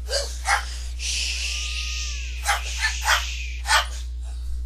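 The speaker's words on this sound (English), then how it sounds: "Now they're all barking." Several dogs bark in scattered bursts over a steady low hum, some barks sharper and higher, with a faint whine in between.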